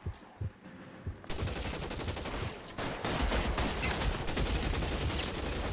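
Sustained machine gun fire in L.A. Noire, opening with a couple of isolated shots, then a long, loud continuous stream of rapid automatic bursts that grows heavier toward the end.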